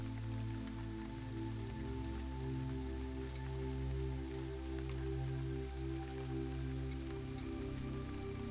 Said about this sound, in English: As you intently listen to this rain